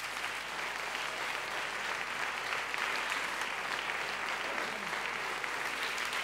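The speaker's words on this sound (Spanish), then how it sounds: "Y aplaudidles," An audience at a jota folk dance performance in Logroño claps steadily, a dense, even wash of applause sustained throughout without letting up.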